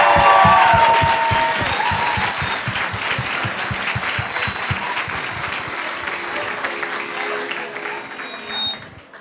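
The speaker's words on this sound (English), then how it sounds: "let's give a big round of applause to Iva Dean" A medical school Match Day crowd applauds a special member of the school. The clapping is loud and dense at the start and gradually thins, and a voice and some tonal sounds come through early on.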